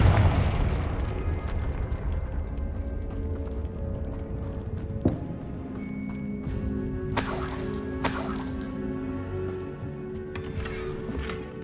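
Confringo fire spell blasts in Hogwarts Legacy, a heavy boom at the start fading into a rumbling roar, then a few sharper bursts and crackles over a dense ongoing game soundscape.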